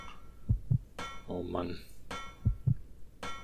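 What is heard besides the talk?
heartbeat sound in video game Resident Evil Code Veronica X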